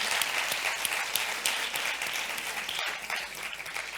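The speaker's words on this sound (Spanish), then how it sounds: "Eses aplausos." An audience at a Galician women columnists' gathering breaks into sustained applause, a dense, steady wash of many hands clapping at fairly even loudness throughout, with a brief dip near the end.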